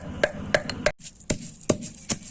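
Turmeric and salt pounded in a mortar with a pestle for a Thai sour frog soup, giving six or seven sharp, close thuds in an uneven rhythm with a brief pause in the middle.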